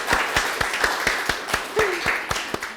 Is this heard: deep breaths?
no